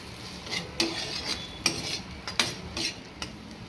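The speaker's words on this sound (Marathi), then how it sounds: "आता थोडंसं हलवून घेऊया" Spoon stirring Shimla mirchi (bell pepper) bhaji in a pan, with soft sizzling beneath a series of scraping strokes and clinks roughly every three-quarters of a second, close and fairly quiet.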